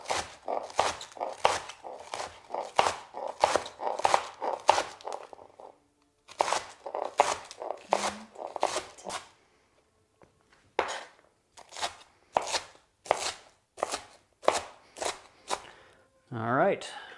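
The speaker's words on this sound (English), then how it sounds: "those ones typically are pretty clean, so we just gotta chop it up" A knife chops bagged lettuce leaves on a board in a quick raw vegan dinner, a steady run of crisp, close chopping strikes with a brief pause midway and a short rustle at the end.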